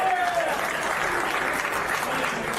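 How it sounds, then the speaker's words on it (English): A comedy club audience claps steadily, a dense, sustained wash of applause from a crowd with a few faint voices mixed in. "Clap for it."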